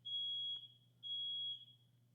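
A smoke or fire alarm blares a steady high-pitched electronic tone in two long bursts, each about half a second or more, separated by a short pause, over a low constant hum in an indoor building at 4 in the morning.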